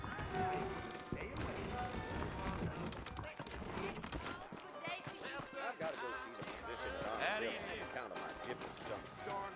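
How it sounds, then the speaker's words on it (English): Rhythmic hoof clip-clops of horses trotting in Red Dead Redemption, mixed with game music and voices talking over the scene. "I got the horses saddled up and ready out front."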